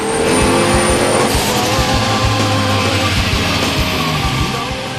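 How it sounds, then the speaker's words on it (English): A Garrett T51R turbocharged 355 V8 in a Commodore ute runs hard on a roller dyno, a loud, close, raspy engine roar with rising and falling revs and a turbo whine. "the Garrett T51R equipped 355 was unleashed on the poor unsuspecting dyno."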